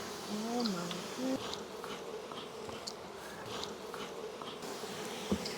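Bees buzz steadily around a tupelo honeycomb out in a Florida swamp, a dense, continuous insect drone with a brief bird-like chirp early on.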